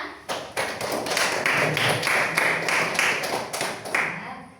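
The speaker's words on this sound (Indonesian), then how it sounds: "Boleh kasih tepuk tangan teman-temannya?" A small group of school students claps together, with scattered claps quickly building into steady applause that lasts a few seconds.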